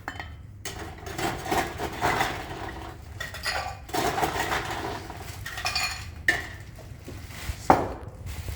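Ice clinking and rattling against glass as an Old Fashioned with bitters is stirred in a mixing jug, repeated close bright clinks in uneven bursts with brief pauses between.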